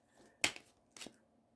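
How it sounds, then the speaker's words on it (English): Two quick, crisp riffles of cards being shuffled, close and fairly quiet, with silence between and after. "I'm going to shuffle the cards 3 times."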